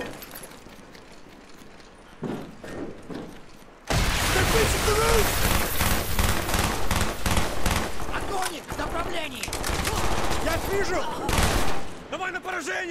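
Rapid, dense gunfire bursts from Call of Duty: Black Ops on PC, loud and sustained after a quieter opening, with heavy battle noise and intermittent speech.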